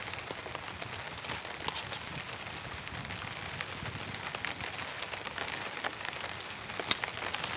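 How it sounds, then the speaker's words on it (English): Rain patters steadily near a campfire burning freshly lit wood outdoors, a dense soft hiss with scattered drops and faint crackles throughout, quiet and without talk. "It's quite a nice rain falling now."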